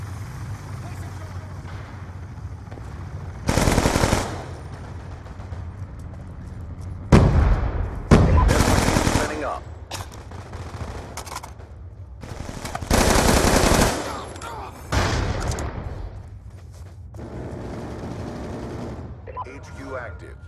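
Bursts of automatic gunfire and explosions ring out during Black Ops 2 combat, several loud salvos spaced over time, with voiced game dialogue between them.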